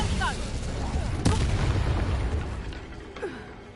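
An Incendio fire spell cast in Hogwarts Legacy on PS5 lets out a sharp, booming burst in the middle, set against rumbling combat noise, with a smaller thud near the end.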